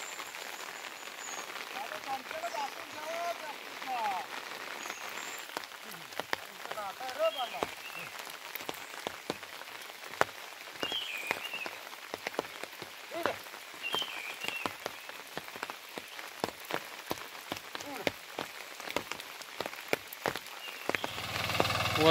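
Steady rain falls over farm fields during monsoon plowing with bullocks for rice, a soft continuous patter with scattered nearby drops and taps running throughout the stretch.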